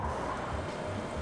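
A new replacement heater blower motor and fan in a vintage RV runs steadily, a close, continuous broadband whir with a low hum underneath and no rattling.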